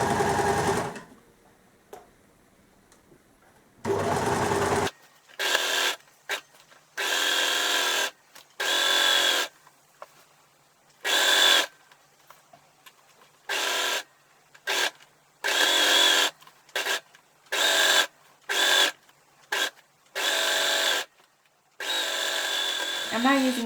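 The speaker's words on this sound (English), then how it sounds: "I'm now going to sew the elastic to the skirt where we've just pinned." Sewing machine stitching elastic onto a skirt waistband, running in repeated loud bursts of steady whirring separated by short pauses, with a voice talking briefly at the start.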